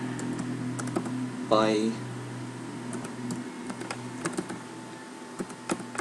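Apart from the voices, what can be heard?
typing Java code on a computer keyboard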